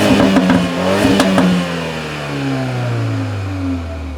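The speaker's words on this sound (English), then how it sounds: "as far as the sound of this car, I'll show you some exhaust clips right now" A BMW G20 330i's exhaust barks through a few quick, sharp revs near the microphone, then the engine drops back to a smooth, steady idle with its pitch sliding down.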